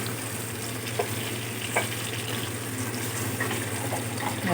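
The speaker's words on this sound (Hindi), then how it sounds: "और अब चिकन को फ्राई कर लेंगे कलर चेंज होने तक" Chicken fries in a pan with a steady, dense sizzle and occasional scraping stirs, close and alone without any voices.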